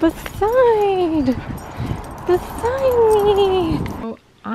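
A tired pet dog whines in two long, rising-and-falling whimpers close to the microphone after a walk, with brief indoor noises between the whimpers.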